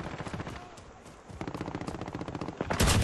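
Rapid automatic gunfire from a weapon in Call of Duty Modern Warfare, a dense, loud stream of shots rattling continuously for several seconds with a heavier burst at the end.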